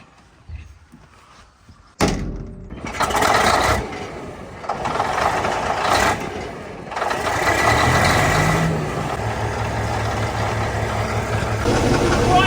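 In a landscaping video game, a heavy work vehicle's engine starts with a sudden thump and then idles steadily, loud and rumbling, with a brief dip and louder revving later.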